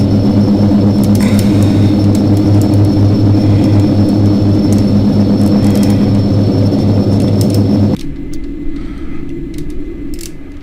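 A Dash-8 turboprop taking off in a flight simulator game, its loud steady engine drone with strong propeller hum, suddenly dropping to a quieter, muffled rumble near the end.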